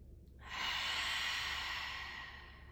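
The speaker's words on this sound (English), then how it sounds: "Stick out your tongue. Big breath out." A long, forceful breath pushed out through the mouth with the tongue stuck out during a yoga exercise. It is a single steady breathy whoosh that swells in and then slowly fades, close and alone.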